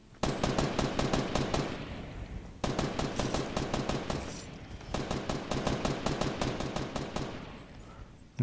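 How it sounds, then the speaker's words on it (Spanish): Rapid automatic gunfire from a Fortnite Battle Royale match crackles in three long, dense bursts separated by brief pauses, loud and close with no talking over it. "Que le está disparando a Molina"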